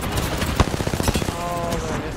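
Another squad opens fire in a video game, sending a rapid burst of gunshots cracking out in a quick fusillade, followed by a fading tail, with a voice talking over it.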